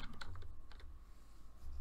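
Quiet keystrokes on a computer keyboard come in a quick burst of clicks, then pause briefly before a few more taps, with no talking.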